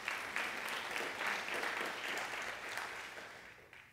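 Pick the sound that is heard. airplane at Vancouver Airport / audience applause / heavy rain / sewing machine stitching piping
audience applause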